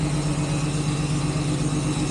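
A truck engine idles steadily nearby while winching in snow in Wyoming, a constant low rumble with no pauses or changes in pitch.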